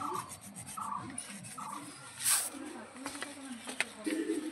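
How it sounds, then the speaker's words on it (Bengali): A stick of sandalwood rubbed against a stone with rose water to make paste, soft repeated rasping strokes close by, faint and low under a voice talking. "এই চন্দনটা আমি গোলাপ জল দিয়ে বেটে নেব।"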